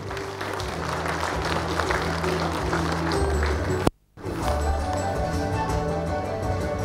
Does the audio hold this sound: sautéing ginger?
no